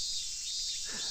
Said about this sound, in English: The deafening silence was broken only by the cries of the cicadas.